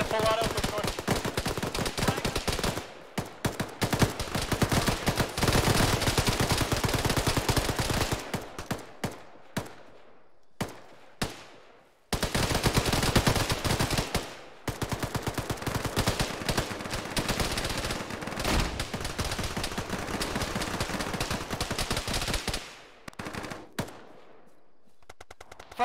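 Full-auto gunfire rips through a military game firefight, loud and close, in long sustained bursts broken by brief gaps, with sporadic fire continuing toward the end.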